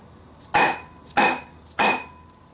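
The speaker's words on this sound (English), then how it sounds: "tap this in a little bit like this, just to try to get it started a little bit more" Three sharp metallic taps, evenly spaced about half a second apart, as a hammer strikes a socket to seat a wheel bearing race on a 1998 VW Jetta TDI rear hub, each with a bright ringing decay.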